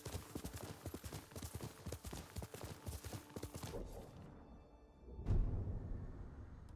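A horse's hooves clip-clop in the video game Ghost of Tsushima, in a quick steady rhythm that fades out, followed by a low thud and a quiet ambient hum.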